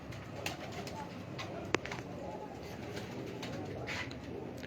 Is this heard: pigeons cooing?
yes